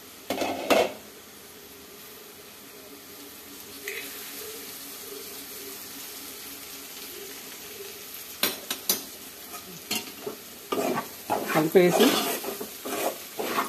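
A stir-fry with coriander and curry leaves in a pan, heard as a moderate sizzle under scraping and clinking of a spoon against the pan, with brief speech at the start.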